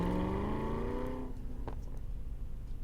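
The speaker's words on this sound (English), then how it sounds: "You hear that engine purr?" A BMW engine in Forza Horizon 3 hums smoothly in a rising, revving drone that fades out midway, leaving only quiet background noise.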